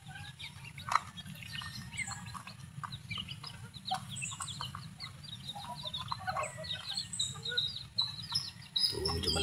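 Young native chicks in a small backyard cluck and peep softly, with scattered calls over a low, continuous background murmur.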